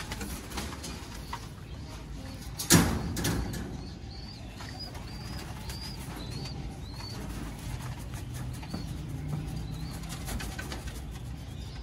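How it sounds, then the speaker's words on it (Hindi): Pigeons bred by a rooftop breeder coo repeatedly at close range, with soft cooing phrases over faint background noise and a brief burst of wing flapping near the start. "ये बड़ा कबूतर है"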